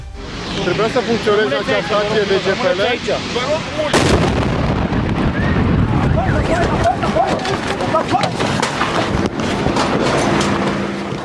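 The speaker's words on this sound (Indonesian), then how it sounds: "Gema ledakan terdengar bertubi-tubi." Heavy booms and rumbling blasts from Iranian missile strikes on Israeli cities repeat under dramatic music and a voice, dense and loud, with a rough roaring backdrop throughout.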